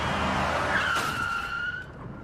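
A comical film sound effect of a man being struck by a train, a loud screeching, skidding squeal that rises and holds before fading, alone with no talk.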